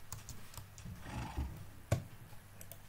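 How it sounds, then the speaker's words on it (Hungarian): Horse in a survival video game, a short faint neigh with a few soft hoof knocks and a sharp click near the end, quiet overall. "ez a ló az itt kijött."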